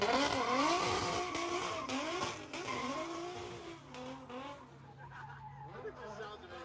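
A car's engine revving hard with squealing tires during a drifting event at the 2023 Haltech HyperFest, heard from trackside amid crowd noise and people talking.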